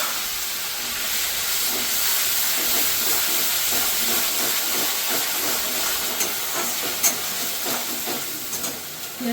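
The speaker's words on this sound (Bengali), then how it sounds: "কালো জিরে ফোড়ন দিলাম, দুটো তেজপাতা, আর দিয়ে দিলাম বাটা পেঁয়াজ।" Onion paste hits hot oil tempered with nigella seeds and two bay leaves while katla fish kalia is being cooked, giving a loud, steady sizzling hiss with scattered crackles throughout.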